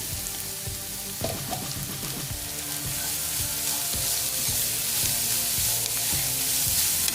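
Grated carrot and softened onions sizzle in a pan while being stirred, with a continuous frying hiss and repeated scraping strokes of a spoon against the pan.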